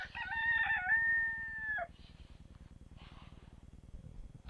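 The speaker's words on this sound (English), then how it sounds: "No, there's the peacock again." A peacock calls outdoors near a pottery in Olive Hill, Kentucky: one loud, drawn-out wailing cry lasting about two seconds, then fainter calls over a steady low mechanical hum.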